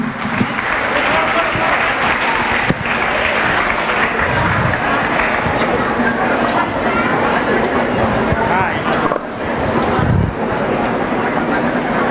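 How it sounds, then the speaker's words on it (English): An audience at a live bird show breaks into loud, sustained applause, a dense wash of clapping that holds steady for the whole stretch with a voice faintly mixed in. "A big round of applause to all these little birds."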